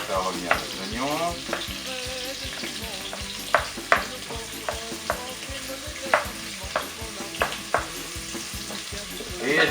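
Onions sautéing in a pot for a rice zembrocal with potatoes, a steady sizzle broken by repeated sharp scrapes and clinks of a spoon stirring against the pot, with no talking.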